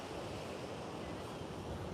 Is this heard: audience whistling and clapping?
no